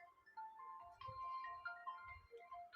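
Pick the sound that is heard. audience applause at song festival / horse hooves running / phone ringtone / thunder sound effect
phone ringtone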